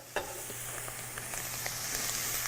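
Onions and garlic sweat in hot fat in a pan, giving a soft, steady sizzle with a few faint clicks of a utensil, fairly quiet and close.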